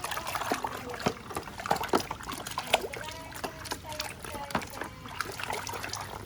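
Toy cars are washed in water, giving repeated light splashes, drips and trickles up close while a person talks throughout.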